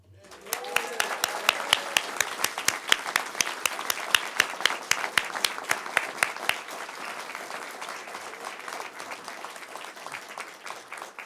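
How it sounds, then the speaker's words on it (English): A crowd gives a round of applause welcoming a new police chief at a formal appointment ceremony, with sharp individual claps standing out before the clapping thins and fades away. "I'd like us to give a big round of applause"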